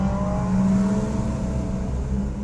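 An autocross competitor's car, one of the Corvettes, BMWs or Porsche Boxsters in an SCCA class, drives past with a steady engine drone and whirring tone that swells slightly then eases, heard alone without voices.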